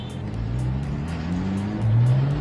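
A Porsche GT3 with the Mezger 4.3 liter engine runs nearby with a steady, loud droning note that rises slightly in pitch near the end, no talking over it.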